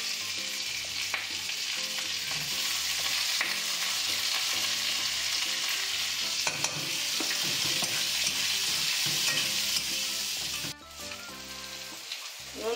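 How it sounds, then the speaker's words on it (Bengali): Sliced onions fry with dried and green chilies in a hot pan for a Bengali fish-head dal, a steady close sizzle broken by spoon scrapes and stirring clatter. "পেঁয়াজটা ভালো করে ভেজে নেব।"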